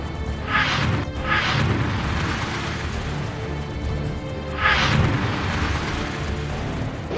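Bunker buster bomb blasts, several deep booming explosions with rumbling tails over a constant loud low roar, heavy and continuous with no talk.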